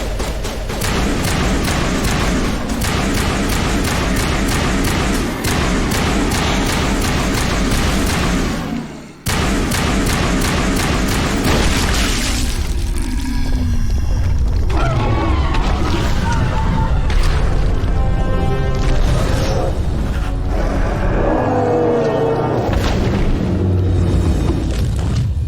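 Heavy, booming grenade blasts and battle noise from the Mass Effect video game fight against the Thorian, loud and dense throughout with a brief drop near the middle, mixed with game sound and occasional voices.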